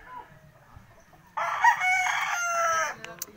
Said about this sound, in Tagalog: Ayan mga manok,